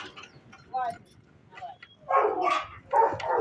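Small dogs bark at a home where rescued raccoons are kept, sharp yapping bursts near the end following fainter yips, heard close with speech nearby.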